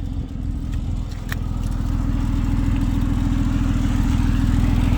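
A 2011 Ford Edge idles after a remote start, giving a close, steady low rumble with a raspy, pulsing edge from an exhaust leak, plus a couple of light clicks early on.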